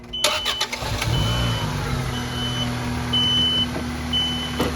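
A car engine, just cranked and started during a jump start, running with a steady rumble, broadband noise and a few short electronic beeps throughout, close by.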